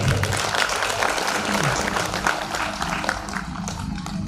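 Audience applause at a musical Tulsi Ramayana katha, a dense, steady wash of many hands clapping that continues for several seconds, with a faint voice underneath.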